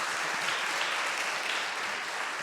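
A church congregation applauds during a combined Sunday worship service in Korea, a dense, even wash of clapping that holds steady and fairly loud throughout.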